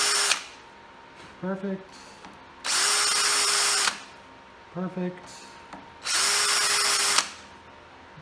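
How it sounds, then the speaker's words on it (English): A power drill bores a start hole in two long, loud, steady whirring bursts, with short pauses between them where a voice speaks briefly. "so I can't complete the hole with this drill bit"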